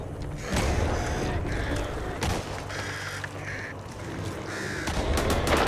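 Crows caw in the Back 4 Blood video game, a string of harsh harmonic calls repeating over a dense, rumbling game soundscape that stays loud throughout.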